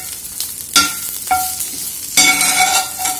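Chicken pieces for restaurant-style tandoori chicken frying in a pan, a steady sizzle broken by a few louder bursts of stirring and scraping, close and fairly loud with no voices.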